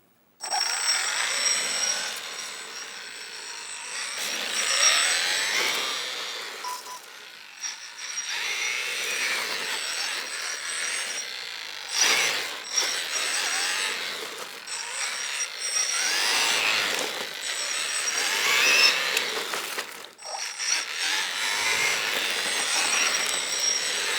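A 3D printed RC hot rod car drives under throttle, a continuous high whining motor and rolling noise that swells and dips across the stretch, close and steady with brief drops, no talking.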